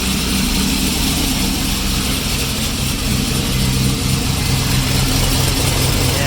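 A turbocharged IROC car engine runs steadily up close, a loud continuous drone with a rough low rumble and a broad airy hiss on top, holding even throughout while the engine is still cold.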